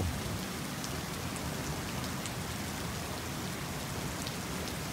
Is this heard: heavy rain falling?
yes